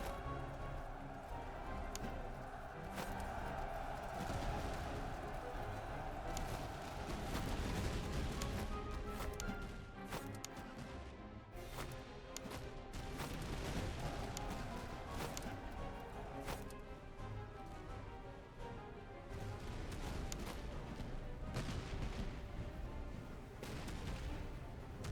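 Artillery fire in the Napoleonic-era battle game Master of Command, with repeated heavy booms and crackling volleys continuing without a break through a dense battle soundscape.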